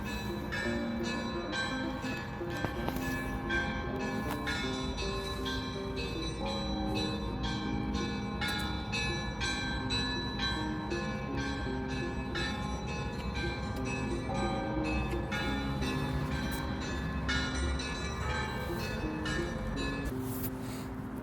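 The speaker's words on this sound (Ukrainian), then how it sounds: "Дзвони віддзвонили." Church bells ring continuously from a park setting, a dense, layered peal of overlapping strokes sustained loudly and evenly throughout.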